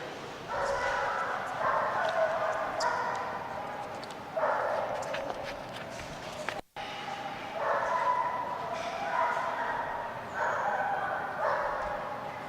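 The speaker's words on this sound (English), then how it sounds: "That's going to bring us to Django, Belgian Malinois, first time off the Dogmode dock right here." Belgian Malinois barking on a dog diving dock, repeated sharp barks in clusters over an outdoor crowd and announcer's voice, with a brief cut midway.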